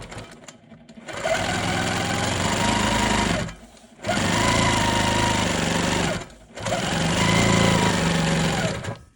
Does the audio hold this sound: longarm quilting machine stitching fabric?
yes